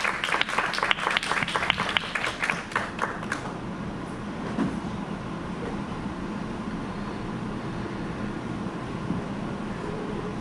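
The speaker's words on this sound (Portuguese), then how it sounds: "Uma salva de palmas." Audience applause at a political event where a candidate for federal deputy in Sergipe is called to the stage: a burst of many clapping hands for about three seconds, then a steady crowd murmur of room noise.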